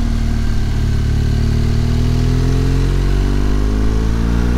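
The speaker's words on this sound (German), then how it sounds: "Hier schalten wir zwei Gänge runter." A BMW GS Adventure motorcycle engine runs loud and close with a steady drone whose pitch shifts as it drops two gears, with no talk over it.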